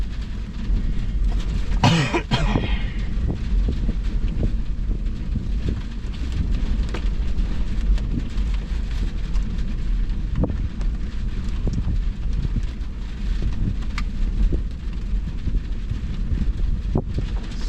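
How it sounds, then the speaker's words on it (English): A September thunderstorm in McCook, Nebraska: steady rain and wind buffet the microphone throughout, with a louder rumble-like burst early on and low crackles under the constant roar. "So much thunder and lightning."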